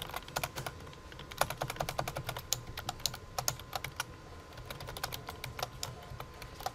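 Many computer keyboards clatter at once in a classroom, a dense, continuous patter of overlapping key clicks with no talking.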